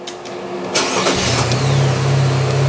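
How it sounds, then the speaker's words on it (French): A GM 1.4L engine on a stop-start training bench cranks briefly, catches and settles into a steady, loud idle. A few clicks come before it, and there is no talking. "Je vais démarrer la voiture"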